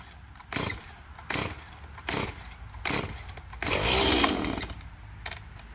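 A Stihl MS170 chainsaw is pull-started: four sharp rasping yanks of the starter cord come at a steady pace, then the engine briefly sputters and catches in a louder rough burst before dropping away.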